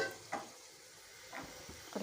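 Tomato paste fries with onion and ginger in a pan for meatball pulao, a faint low sizzle broken by a few soft scraping stirs.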